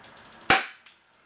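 Galaxy G6 airsoft gun firing a single shot at a can: one sharp, loud crack near the mic with a short ringing tail, followed by a faint tick of the pellet hitting, otherwise quiet.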